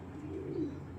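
Racing pigeons give a brief, low cooing call, a soft rolling murmur that swells in the middle, close by and alone.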